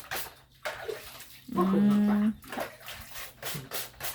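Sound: spraying water while washing a diaper

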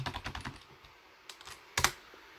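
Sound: typing a message on a computer keyboard

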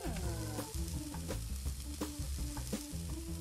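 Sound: fish frying in video game Cook Serve Delicious

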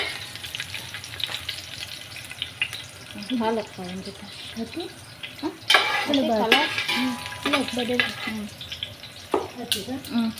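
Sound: curry leaves, cinnamon, bay leaf, cloves frying in pan

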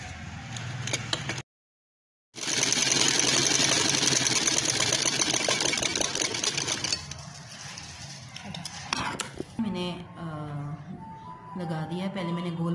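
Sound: sewing machine stitching a bias strip onto a neckline

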